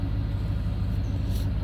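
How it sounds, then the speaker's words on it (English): An old Chevy truck idling close up, a low rhythmic rumbling engine with a steady pulsing beat and a faint higher hiss, no talking. "Anybody owns a Chevy know what that noise is?"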